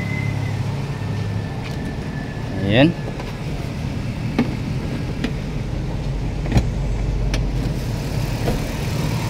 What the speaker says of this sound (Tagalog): Yan o, ganda ng andar ng ating makina.